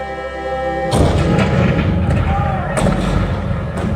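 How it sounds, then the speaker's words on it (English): Heavy booming Civil War cannon fire breaks out abruptly and continues in repeated deep blasts, loud and rumbling, with several sharp reports close together. "The cannons spoke for war."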